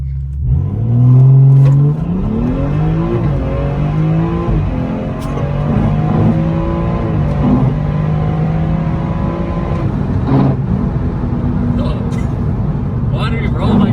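A BMW M240i Stage 3 engine revs hard during a brake-boost launch, rising loudly at the start, then pulling through gear changes with pitch sweeps, while people talk over it.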